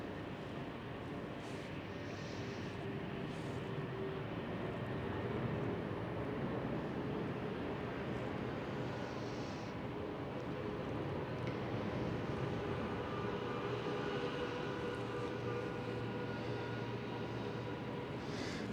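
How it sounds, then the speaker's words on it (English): A KLM Boeing 737 passes at Amsterdam Schiphol, making a steady, moderate broadband roar that holds for the whole stretch with no talk over it. "There goes the KLM 737."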